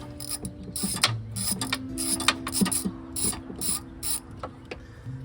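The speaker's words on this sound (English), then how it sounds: "So just crack this bolt right here. I'm gonna take it off." A ratchet wrench loosens a ground bolt on a 1990 Acura Integra, giving a quick rhythmic series of sharp metallic clicks up close, about a dozen strokes in a few seconds.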